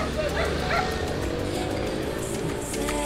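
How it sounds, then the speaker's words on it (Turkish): A dog barks and yips nearby on a street, short sharp calls heard under a person talking. "Bir ara havlama sesi duyan ünlü model hemen oğluna siper oldu."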